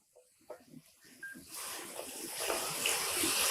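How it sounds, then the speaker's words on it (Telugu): Water poured into a pot of village-style chicken curry made without masalas: after a few quiet clinks, a steady rushing pour starts midway and grows louder and fuller until the end. "దీంట్లోకి మనకు తగినన్ని నీళ్లు పోసుకోవటం"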